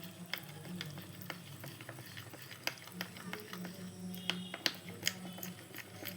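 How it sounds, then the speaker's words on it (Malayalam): A spoon stirs a thick face-pack paste of gram flour, turmeric and kasturi turmeric in a bowl, giving scattered scraping clicks and soft taps over a low steady hum, with no one talking. "അത് നല്ലോണം മിക്സ് ആക്കുക."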